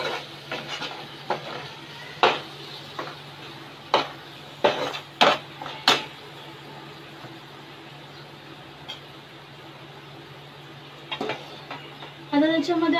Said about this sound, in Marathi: इथे 2 चमचे तिखट ॲड केलेलं आहे, व्यवस्थित परतून घेऊया।